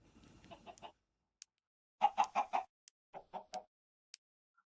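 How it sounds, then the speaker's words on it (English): Minecraft chickens clucking in short bursts, a soft run of clucks followed by a louder cluster of four and then three more, with a few faint isolated clicks between them and no talk. "only an egg and some chickens."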